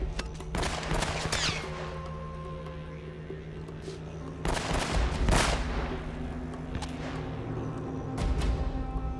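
Near-continuous gunfire in the video game Uncharted: Drake's Fortune, loud and dense throughout, with heavier bursts rising now and then.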